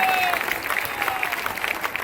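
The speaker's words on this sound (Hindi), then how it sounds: "अगर आप ताली बजाते रहेंगे तो बच्चों का उत्साह बढ़ेगा" A crowd at a public rally held with Chief Minister Yogi Adityanath in Azamgarh claps steadily, a brief dense patter of applause heard fairly close.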